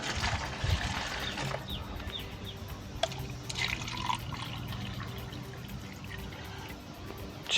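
Water pours steadily into an air conditioner cleaner mix, a close, continuous trickle and splash with a few small clinks of a container.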